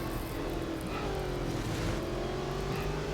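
Racing car engines in the Real Racing 3 game, a Maserati GranTurismo MC Stradale among them overtaking, hold a steady loud whine with a rising pitch sweep and no talk over it.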